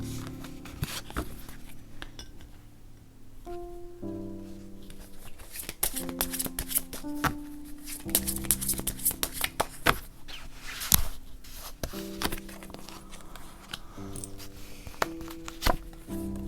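Gold tarot cards are shuffled in a run of crisp, papery riffles and taps that come in irregular bursts over soft background music, close and fairly quiet.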